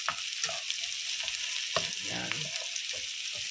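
Chopped onions sizzle and hiss steadily in a hot pan as they are sautéed for squid adobo, with occasional stirring scrapes and a brief spoken word over the frying.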